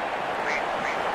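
A cartoonish duck quack sound effect plays over a cricket match broadcast. It gives two short nasal quacks over a steady background of crowd noise.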